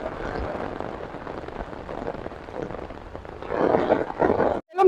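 Heavy rain pours steadily onto a flat rooftop in Delhi, a dense continuous wash of drops that swells louder toward the end, with no talking.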